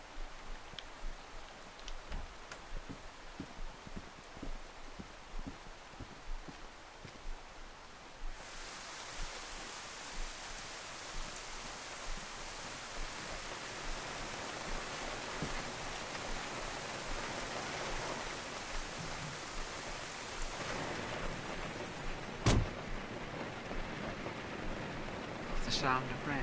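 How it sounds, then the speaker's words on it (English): Rain in the video game DayZ on PS4, a steady broadband hiss that swells louder partway through and holds, with faint ticks and occasional sharper cracks over it. "The sound of rain."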